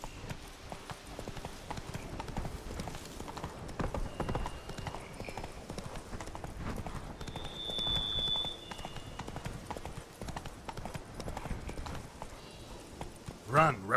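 A horse from The Witcher 3 gallops in a steady, rapid clip-clop rhythm throughout, close and clear, with game sounds around it and a brief louder burst near the end.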